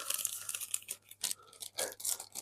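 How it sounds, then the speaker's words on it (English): Plastic bag crinkling and rustling as a metal-detecting magnet is pushed inside, a close run of crisp crackles and scrunches with short pauses, no talking. "put the magnet in a plastic bag, right, so I can get it off easy"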